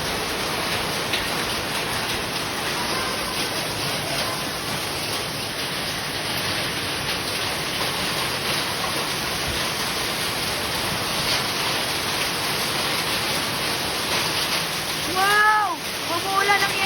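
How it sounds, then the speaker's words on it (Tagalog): Hail pelting down steadily in a cold highland area of Daylayan, a dense, even hiss of ice striking surfaces throughout, with a voice speaking over it near the end. "Umuulan ng yelo!"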